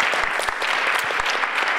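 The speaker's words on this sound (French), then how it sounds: "Vous pouvez l'applaudir" Audience applause following a round-table talk on social insertion at Les Grands Voisins, a steady dense clapping filling the room at full volume throughout with no pause.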